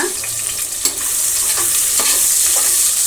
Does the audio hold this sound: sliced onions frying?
yes